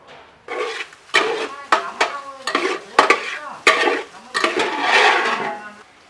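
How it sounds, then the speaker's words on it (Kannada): Pork fry cooks in a pan with added hot water, heard as a spoon stirring with repeated scraping strokes over a bubbling, sizzling background, close and fairly loud. "ಒಮ್ಮೆ ಒಳ್ಳೆ ಕುದಿಯಲಿ."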